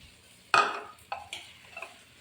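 A spoon scrapes and clinks against a pot of sambar a few times in brief, irregular strokes as powdered jaggery is stirred in, close by with no speech.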